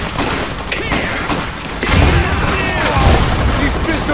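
Gunfire in the real-time strategy game Iron Harvest: loud, dense bursts of shots and booms, heavier after the first second and a half, with in-game unit voice lines mixed in.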